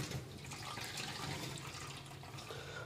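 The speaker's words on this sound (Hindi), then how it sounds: "ये रोटी जो भिगो के रखी थी तो इसका पानी इधर ड्रेन कर देते हैं" Water draining from soaked bread (roti) into a kitchen sink, a soft, steady trickle and splash that runs throughout, ending in a brief sharp knock.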